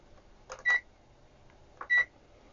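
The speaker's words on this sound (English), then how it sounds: "If I switch ohms, yeah, it switches ohms here." A Zotek Zoyi ZT-5566 SE desktop multimeter gives two short, clear electronic beeps about a second apart as its range is switched to ohms, each preceded by a faint button click, in a quiet room.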